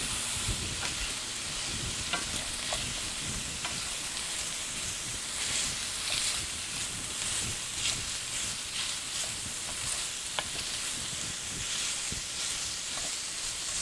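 Sausage and apples sizzle in a Dutch oven on an electric stove, a dense, continuous crackling hiss that stays loud and even throughout with no voices.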